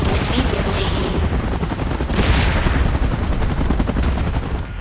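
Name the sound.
helicopter in video game PUBG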